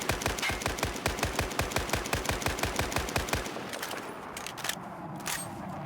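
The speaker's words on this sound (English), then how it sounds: "I'm going to switch to single fire and let you listen to the gunshots." Rapid single-fire shots from an M60E4 machine gun in a video game, about twenty sharp evenly spaced reports over three seconds, loud and close, then a quieter tail with faint clicks.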